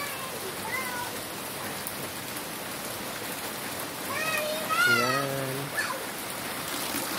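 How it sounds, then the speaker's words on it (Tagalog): Steady rain patters on garden plants, a constant soft hiss filling the background throughout, while someone speaks briefly over it. "Thank you very much, Lord, kasi umulan."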